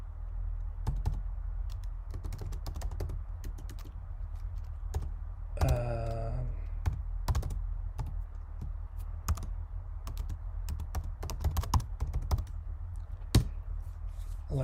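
Keys clatter on a computer keyboard in irregular bursts of close taps throughout, with a brief tonal chime partway through and otherwise quiet room tone.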